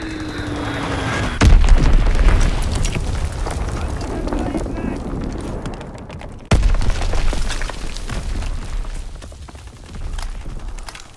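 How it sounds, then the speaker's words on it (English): Fritz X bombs strike in Call of Duty WWII with two heavy, sudden booms several seconds apart, each followed by a long rumbling decay under steady battle noise. "Fritz X bomb mission underway."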